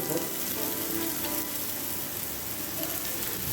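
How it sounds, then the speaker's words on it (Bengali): Chopped garlic, onion and ginger frying in sesame oil in a hot Chinese wok, giving a dense, continuous sizzle that stays loud and even throughout. "এবার আমরা চাইনিজ ওকটাকে গরম করে ওর মধ্যে দিয়ে দিলাম সিসাম অয়েল, দিয়ে দিলাম গার্লিক চপ, তারপর দিলাম পেঁয়াজ চপ"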